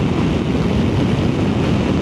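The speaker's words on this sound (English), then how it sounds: "God, it's windy out here." Steady, roaring wind buffets the microphone outdoors, loud and continuous with no break.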